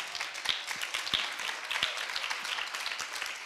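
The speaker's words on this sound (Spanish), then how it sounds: "pediría un aplauso para Amparo, que viene aquí" Audience applause at a panel discussion on dance, steady clapping throughout with a few louder nearby claps standing out from the general patter.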